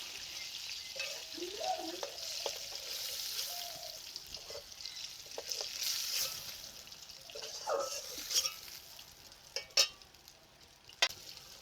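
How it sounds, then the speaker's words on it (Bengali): Eggplant pieces frying in oil are lifted from the pan. A soft, fairly faint sizzle runs under scattered stirring scrapes, and a few sharp clinks of utensil on metal sound near the end, with no speech. "বেগুনগুলো হালকা ভাজা হয়ে গেছে এখন তুলে নিচ্ছি"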